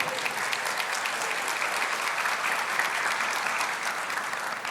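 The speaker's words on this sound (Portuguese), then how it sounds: "Pode aplaudir." A church congregation applauds during a sermon, a steady, moderately loud burst of many hands clapping together with no talk over it.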